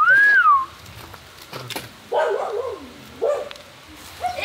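A dog being caught with a net gives three sharp, short barks spaced about a second apart, close by, after a brief whistle at the start.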